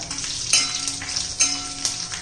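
Whole red chillies frying with asafoetida and curry leaves for onion-coriander chutney: steady close sizzle and crackle in hot oil, with brief spatter pops and stirring scrapes.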